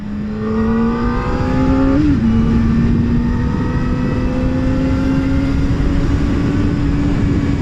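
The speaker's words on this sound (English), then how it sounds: "punch it, you know, like second gear, full throttle" Kawasaki ZX4-R motorcycle at full throttle in second gear, a loud, close, continuous high-pitched engine wail rising steadily in pitch with a quick blip partway through, over wind roar.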